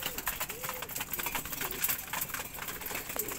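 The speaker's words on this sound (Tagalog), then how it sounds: "Dami-dami na rin tayong ibon." Pigeons coo in a loft, with repeated soft rising-falling coos close by amid a busy background of flutters and shuffling, and faint voices underneath.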